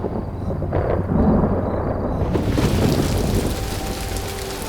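Heavy rain pours with rumbling thunder in a Tamil comedy thriller film scene, a loud dense roar that swells into a broad crashing wash partway through, with no talk.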